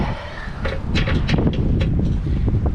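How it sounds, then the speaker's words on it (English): Steady outdoor wind rushing and buffeting against the microphone during a zero-turn mower belt change, a broad low roar with a few brief higher gusts. "Nice and windy out here today."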